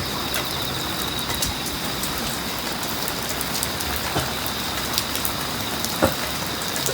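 Rain falls steadily during a bicycle ride from Seoul, a dense continuous hiss of drops on surfaces with occasional louder taps and a faint background whine.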